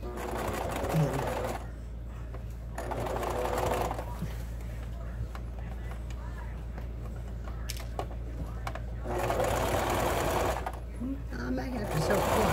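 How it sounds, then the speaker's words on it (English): A sewing machine hums through several stitching runs while a pin cushion is sewn, and someone talks over the noise between and during the runs. "I may have to sew twice"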